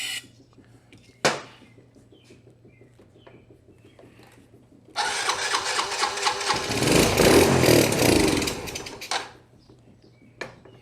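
A Sym Symba 100 motorcycle in need of carburetor repair cranks and its small engine catches and runs for a few seconds at close range, then cuts out, with brief clunks before and after.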